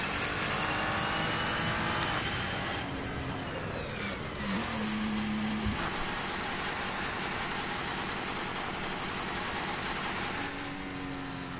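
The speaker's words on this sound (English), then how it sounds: "this car sounds horrible" A GT3 race car engine in the video game Assetto Corsa, at Imola, drones loudly and steadily throughout, with tones rising and falling as it shifts and revs, harsh and buzzy.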